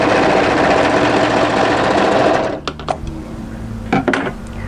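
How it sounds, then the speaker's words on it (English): An overlocker runs fast along a dress seam in a continuous loud whir, then stops abruptly, followed by a few light clicks and handling knocks. "And then just overlock up to and then off from there."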